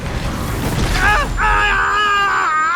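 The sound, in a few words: explosion in the video game Outlast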